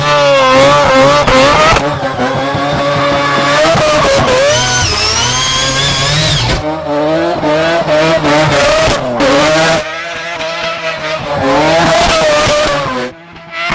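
Loud high-revving four-rotor 26B rotary engine in a mini truck, sustained buzzing harmonics climbing and dropping through several rev bursts with brief lifts, close and dominant throughout, no talking.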